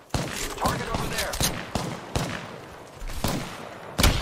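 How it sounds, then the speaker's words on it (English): Gunfire aimed at the player in an intense competitive shooter match, a series of sharp loud bursts and rapid volleys spaced irregularly over about four seconds, with faint background game sounds between shots. "I am taking fire, friends."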